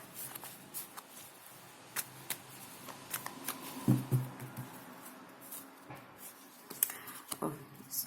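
Tarot cards are shuffled by hand in quick, soft riffles and slaps, with a few sharper taps scattered across the quiet stretch.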